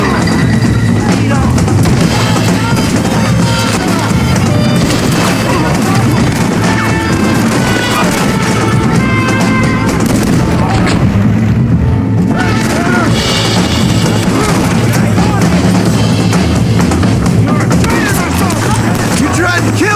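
Gunfire in the Western video game Red Dead Redemption, a dense, continuous barrage of crashing shots and impacts over a busy game soundscape, loud throughout with voices shouting amid the fighting.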